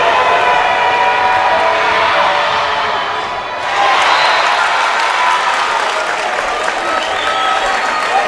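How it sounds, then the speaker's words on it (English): A rowdy Elmhurst University basketball crowd cheers and roars steadily during a free throw, with a dense, loud wall of noise that dips briefly and then swells back. "This rowdy Elmhurst crowd getting into the mind of Julian Campbell"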